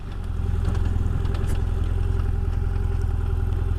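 A 2017 BMW F800 GSA motorcycle engine thrums loud and close while riding off-road, a steady low throbbing drone with light mechanical clatter on top.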